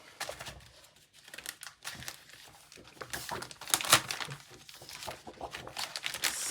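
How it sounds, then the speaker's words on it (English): Sheets of scrapbooking designer paper are shuffled and handled up close, giving soft crinkles and rustles, with a sharper crisp flutter about midway through. "So I can put all of these other sheets away."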